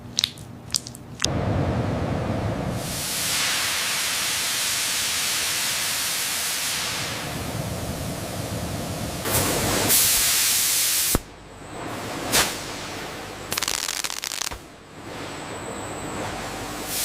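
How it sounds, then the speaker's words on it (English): Pressurized warm water mist sprays onto a red-eyed tree frog hide in an amphibian skin processing plant, giving a loud broad hiss in long bursts broken by short pauses and clicks. "Pressurized warm water mist loosens surface impurities embedded in the red-eyed tree frog hide."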